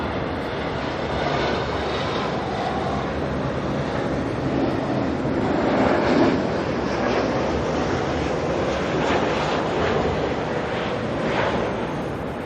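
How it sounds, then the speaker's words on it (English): A Boeing 777 airliner runs its engines at Auckland Airport, making a loud, continuous, broad roar that swells slightly and stays steady throughout, with no voices. "Listen to that 777."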